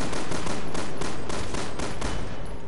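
Gunfire in the video game Resident Evil 6 rattles out as rapid, evenly spaced shots in a dense, loud burst that continues throughout.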